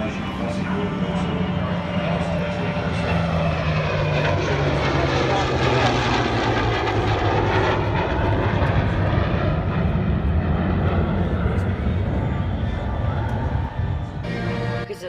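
A heritage formation of a P-51 Mustang, a Spitfire and an F-35 jet passes overhead at the Flying Legends 2018 airshow at Duxford, a loud, sustained engine roar that drops slowly in pitch as the aircraft go by.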